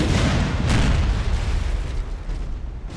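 Ship cannon broadsides in Napoleon Total War boom in a dense, rumbling barrage, with a loud opening salvo that rolls and fades into a sustained roar of distant gunfire.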